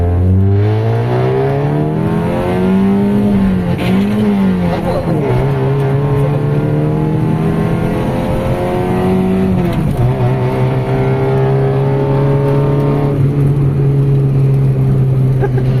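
Honda Civic with an idle that drops and a delay after distributor work, heard on a test drive: a loud, steady engine hum with a few revving swells, wind and road noise underneath.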